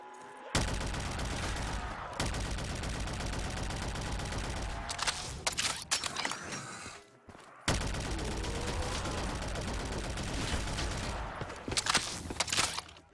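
Submachine gun fire in Black Ops 3 Custom Zombies on the Stairway To Heaven map: loud, dense rapid-fire bursts running almost continuously, broken by one brief pause midway before the shooting resumes.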